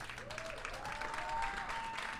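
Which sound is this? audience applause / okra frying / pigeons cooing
audience applause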